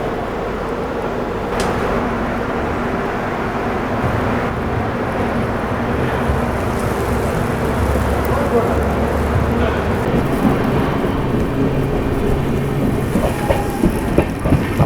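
A small commuter train on the Coimbatore route rolls steadily past on the railway track with a continuous rumble and rhythmic clickety-clack, loud and close throughout, with faint voices in the background.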